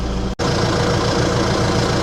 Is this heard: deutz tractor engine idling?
yes